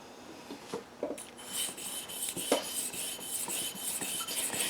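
A Spyderco Delica 4 knife with a VG10 steel blade is drawn across a whetstone, giving close, gritty scraping strokes that rise and fall in an uneven rhythm, with occasional light clicks.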